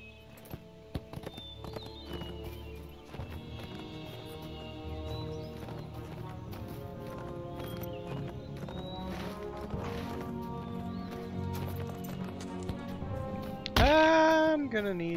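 Rhythmic clip-clop of horse hooves in Lord of the Rings Online, steady under game music, ending in a louder burst near the close.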